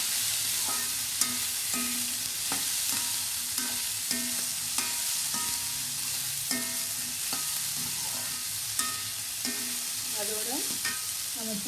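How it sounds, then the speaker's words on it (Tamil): A spatula stirs salted, boiled green peas in a frying pan for a peas poriyal, making repeated rhythmic scrapes and soft clacks over a low, steady sizzle, close and alone without voices. "போட்டு 1 நிமிஷம் அப்படியே நல்லா கிண்டுங்க."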